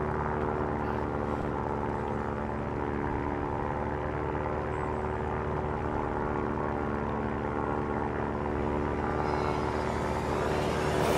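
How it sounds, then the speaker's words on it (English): Aircraft engine droning steadily in the Stranded Deep video game as a plane comes down to crash, a dense, sustained rumble with tonal hum throughout that swells louder and brighter toward the end. "Another plane hit us!"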